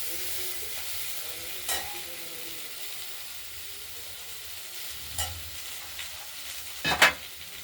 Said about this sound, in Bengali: আমরা পেঁয়াজ কলিগুলোকে একটু নেড়ে দিচ্ছি, ভাজা ভাজা হবে না? ভাজা ভাজা করতে হবে।